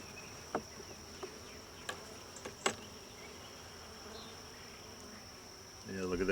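Honeybees buzzing faintly around an open beehive with building comb, a thin steady hum with a few sharp clicks and knocks from handling frames, then louder rustling at the end.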